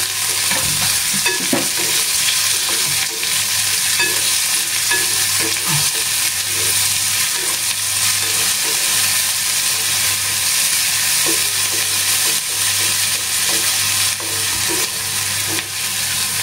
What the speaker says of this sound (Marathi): कढीपत्ता, कांदा, कांदा इथे छान परतून घेऊया.